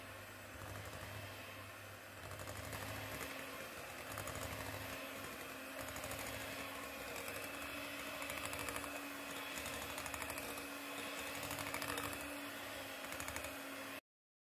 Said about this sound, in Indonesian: kemudian mixer dengan kecepatan paling rendah asal rata sekitar 15 sampai 20 detik